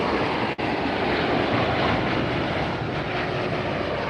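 An ANA airliner in Star Alliance livery passes at LAX, its engines a loud, steady broadband roar with wind buffeting the microphone, and no talk.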